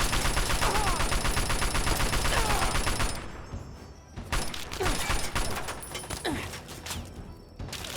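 Enemy gunfire in Fallout 3, starting as a dense, loud barrage of overlapping shots, then thinning into scattered single cracks and bursts, some nearer and some farther off.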